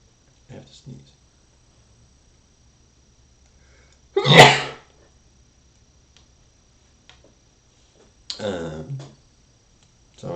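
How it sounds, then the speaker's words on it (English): A single sharp sneeze bursts out loudly at close range in a quiet room, with brief murmured talk before it and a short exhale or voice after. "I have to sneeze."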